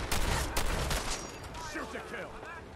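Gunfire in the game Fallout 4, a dense burst of shots right at the start that tapers into a steady busy rumble of game sound effects, with a voice faintly under the action.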